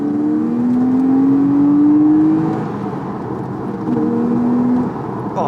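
A Porsche engine pulls hard through a gear while driving, rising in pitch steadily, then a brief pause for a shift and a second climb, heard from inside the car without talk.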